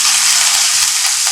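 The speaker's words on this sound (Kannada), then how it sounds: "ಕರಿಬೇವಿನ ಸೊಪ್ಪು ಒಳ್ಳೆ ಘಮ ಬರೋವರೆಗೂ ಫ್ರೈ ಮಾಡ್ಕೊಳ್ಳೋಣ" Curry leaves sizzle in hot oil in a pan while a raw mango puliyogare is being made, a loud, continuous close hiss with faint stirring scrapes.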